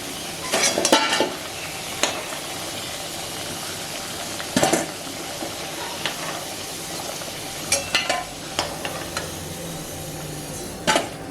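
Pieces of elephant foot yam fry in hot oil in a home kitchen, a steady low sizzle broken by several sharp clinks and scrapes of a stirring utensil against the pan; no one speaks.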